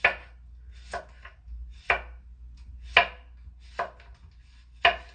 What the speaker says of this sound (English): So for burgers, I like long, thin pickle slices. So we're gonna cut on the bias.